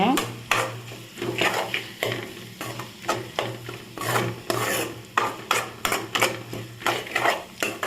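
Masala sautéing in a pan for a rock fish puttu, a loud rhythmic scraping of a spatula against the pan over a continuous sizzle, close and steady with repeated strokes.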